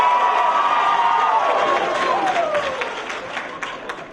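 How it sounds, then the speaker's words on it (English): A comedy club audience applauds and cheers, dense clapping with voices calling out, fading slightly over a few seconds. "Round of applause"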